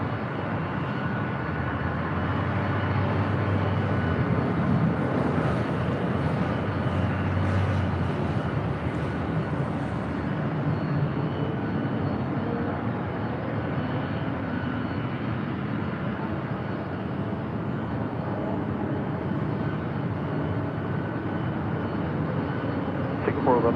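An airliner landing on runway 24 left at LAX, a loud, steady, broad roar that holds unbroken from start to finish with a little wind buffeting.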